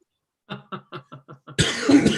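A rapid burst of six short coughs in quick succession, close and moderately loud, followed immediately by a harsher, louder choking cough.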